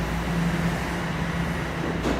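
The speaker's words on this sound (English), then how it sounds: "Go away, noisy train." A train rumbles past in downtown Toronto, a steady loud roar with low hum filling the whole stretch, close by and without talk.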